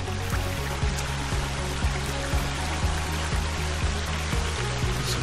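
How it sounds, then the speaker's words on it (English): A waterfall in the video game The Forest gives a constant rushing, splashing wash of water, with a rhythmic low thumping repeating beneath it throughout. "It's a waterfall."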